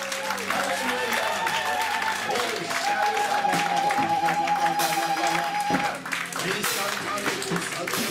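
A church congregation applauding and clapping continuously, a dense crowd sound with a sustained tone running through it and voices mixed in.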